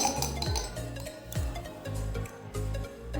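Cashews are dropped into a glass to soak while sweets are prepared in a home kitchen for a puja. A few bright clinks and taps against the glass come in small clusters, close and fairly quiet.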